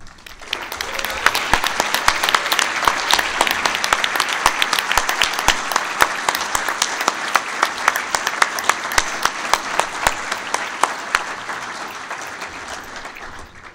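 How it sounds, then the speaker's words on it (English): An audience at an NHRA North Central Division awards ceremony breaks into a loud, sustained round of applause, dense clapping that swells and holds for many seconds before tapering slightly. "join me with a round of applause for the hardest working men and women of this North Central Division"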